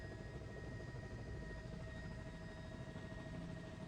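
Steady, dense rotor and engine roar of a helicopter heard from inside the cabin, constant and loud throughout with no breaks.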